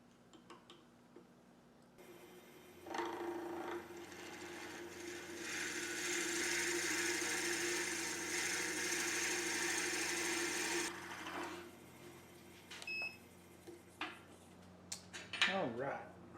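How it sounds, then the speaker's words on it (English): Bullet key chain blanks being drilled through on a wood lathe, a steady grinding whir that rises and runs for several seconds close up, then drops away to softer handling noises and a brief squeal near the end. "So let's drill those out."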